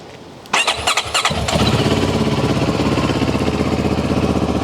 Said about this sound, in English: let's start it up and have a listen